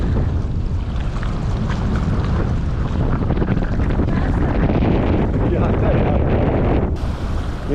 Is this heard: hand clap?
no